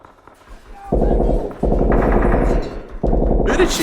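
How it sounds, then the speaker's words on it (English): Gunfire from a Breaking Bad episode, season 5 episode 10 'Buried': rapid machine-gun-style bursts erupt after a quiet start and continue in loud, dense volleys with brief breaks between them. "I feel like we're gonna start hearing gunshots"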